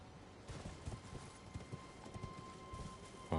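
Horse hooves clip-clopping at a steady gallop in the video game Elden Ring, fairly quiet, with a soft game-audio bed underneath and a brief louder thump at the very end.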